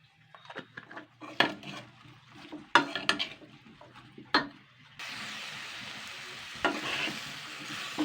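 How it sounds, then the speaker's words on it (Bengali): Water spinach (kolmi shak) hitting hot ghee in a pan, starting with scattered clinks and stirring scrapes of utensil on cookware, then a steady close sizzle of frying with occasional stirring knocks. "ঘিটা দিয়ে এবার আমি ভাজবো।"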